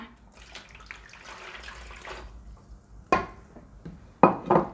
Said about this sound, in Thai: ตามด้วยนะคะน้ำปูนใสนะคะ อันนี้เราแช่ไว้แล้ะคะ 500มิลลิลิตรนะคะ